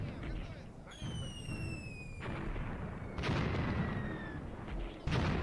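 Gunfire from German forces in the night-raid WWII tactics game Graviteam Tactics, heavy booming shots and bursts sounding at a distance over a steady low rumble, with several loud reports spread across the stretch.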